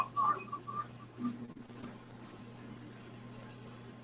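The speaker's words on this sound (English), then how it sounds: "Okay, that sounds like crickets." Crickets chirping steadily in regular short pulses, faint and somewhat distant, over a low electrical hum indoors during a 5-inch FPV drone build.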